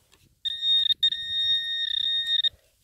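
A Garrett AT MAX metal detector sounds a steady high-pitched electronic tone over buried iron at a detecting rally, one sustained beep lasting about two seconds with a brief break near the start, clear above faint outdoor rustle.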